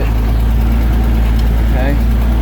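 A 1947 Dodge pickup truck engine rumbles low and loud while the truck backs up, a steady drone throughout with speech over it.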